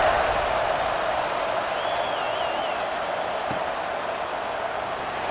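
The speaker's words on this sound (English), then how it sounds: "this crowd is buzzing after that last score" A college football stadium crowd in the EA Sports College Football 26 video game keeps up a dense, continuous roar, loud and steady, with a brief whistle-like tone partway through and no clear speech.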